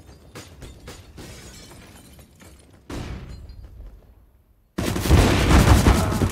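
AWP sniper rifle fire in a Counter-Strike match on the Inferno map: several sharp, sudden reports with brief tails, ending in a loud, sustained burst of dense noise.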